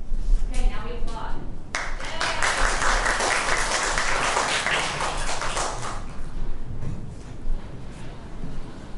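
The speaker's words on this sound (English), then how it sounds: "Okay, now we applaud." An audience at a youth theater arts session's stage production of James and the Giant Peach breaks into loud, sustained clapping that swells for several seconds, then tapers off.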